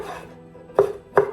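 A knife chops through aubergine on a cutting board, two crisp close thuds about a third of a second apart after a quiet start, with no voice.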